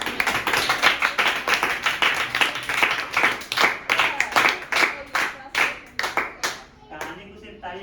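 Children at a Varanasi school clapping after a story, a bright, fairly loud run of claps that starts dense and thins into a slowing, rhythmic patter before fading out near the end.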